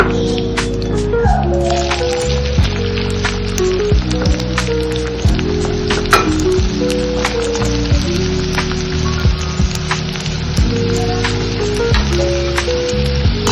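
Green chilies and onion sautéing in a pan for momo filling, a steady loud crackling sizzle with dense popping spatter throughout, tonal music playing underneath.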